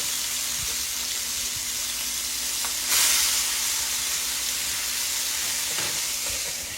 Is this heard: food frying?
yes